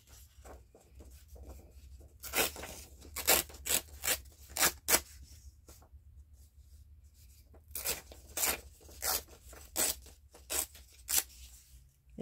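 Paper pages torn from a book into pieces, in bursts of sharp ripping, several quick tears at a time with pauses between, close and fairly loud.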